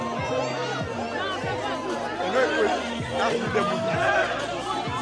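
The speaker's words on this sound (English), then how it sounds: "Look at them as they cheer and as they rejoice in their victory." A winning team at a church Olympics event cheers and chatters together, a lively crowd of voices rising and falling close by, with no clear chant.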